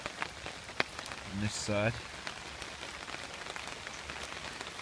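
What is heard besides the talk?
rain falling on a camping shelter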